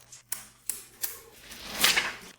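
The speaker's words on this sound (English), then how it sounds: "So let me take this sticker off." A sticker is peeled off a new vivo V40 phone: a few light clicks and taps, then a soft rising crackle and rip that fades away, close and quiet.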